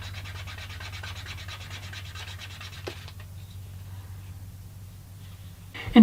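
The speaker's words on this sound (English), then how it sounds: "I'm going to take just a minute and try to slick the edge" Brisk back-and-forth rubbing as the edge of couch leather is slicked for a bifold wallet, a run of quick scratchy strokes for about three seconds, then quieter scattered rubs and a soft knock at the end.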